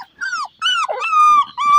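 Several high-pitched puppy whimpers and whines follow one another, close and fairly loud, with drawn-out pleading cries.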